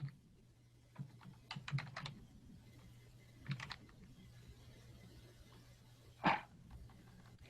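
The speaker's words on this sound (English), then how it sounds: "Can't type today." A computer keyboard is typed on in short, scattered bursts of quiet clicking keystrokes, with pauses between groups, faint and close, and a louder thump or breath near the end.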